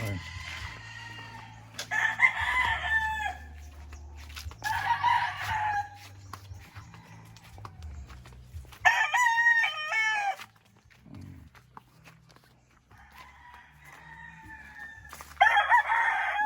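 Boston Roundhead gamefowl roosters crow repeatedly at close range in a poultry breeding yard, the loud drawn-out calls coming in several bursts with clucking and a low hum between them.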